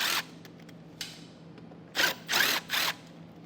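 A power tool backs out 5.5mm screws from a 2017 Ford Explorer wheel well liner in short whirring bursts: a brief one, another, then three quick close bursts near the end.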